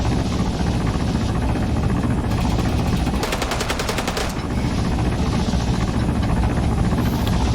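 A helicopter gunship in ARMA 3 thrums with a constant rotor and engine roar, broken midway by a rapid burst of machine-gun fire that lasts about a second before the rotor drone carries on alone.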